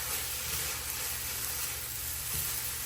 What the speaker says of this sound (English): 1/4 cup soy sauce. And we're just going to stir fry this together.